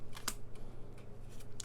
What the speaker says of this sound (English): I just love how this deck shuffles